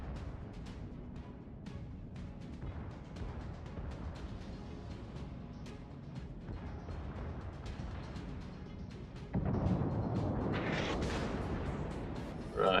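Naval guns fire from the Mikasa battleship in World of Warships, a string of sharp booming blasts over low rumble, with a louder burst and roar near the end.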